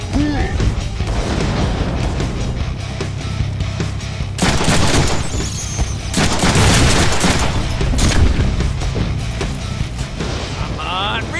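Rocket explosions and rapid gunfire fill a Deadpool game battle, loud repeated booms and bursts of shooting running throughout, with a voice talking over the chaos.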